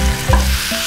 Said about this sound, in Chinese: 我们可以把刚才准备好的所有的蔬菜下入锅中